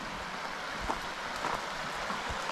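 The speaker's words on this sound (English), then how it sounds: "Nice creek." A creek in Greene County, Tennessee runs as a steady, continuous wash of flowing water, near and fairly even, with no voices over it.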